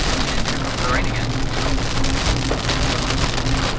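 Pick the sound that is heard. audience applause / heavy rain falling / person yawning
heavy rain falling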